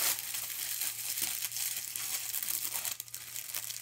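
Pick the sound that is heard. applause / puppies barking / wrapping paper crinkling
wrapping paper crinkling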